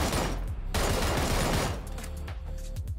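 A QBU designated marksman rifle in the PUBG video game fires rapidly from a prone position, a dense, loud stream of gunshots with a brief gap before more quick shots, with no voices.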